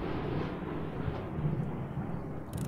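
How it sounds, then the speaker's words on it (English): Rolling thunder rumbles through a dark horror video game, a low sustained roar that swells and fades with faint rain-like hiss, heard alone without voices. "Maybe it was just the thunder."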